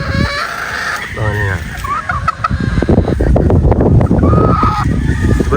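Boston Black gamefowl chickens cluck and squawk loudly up close, with a crow among them, while people talk over the birds.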